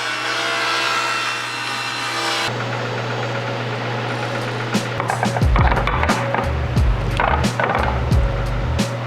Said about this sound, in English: This is a 25-inch planer, and when we run the opposite side that we flattened on the joiner through this, it creates 2 parallel surfaces.